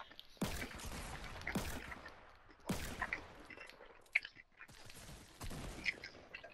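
Fortnite gunfire: several sharp, separate shots at irregular intervals with brief echoing tails, fairly quiet, mixed with smaller game effects and clicks between them.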